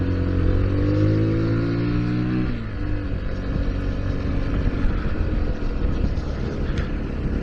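A Sinnis Terrain 125 Euro 5 water-cooled motorcycle engine revs up close by, its pitch climbing steadily before dropping into a rough, lower running sound that continues loud to the end.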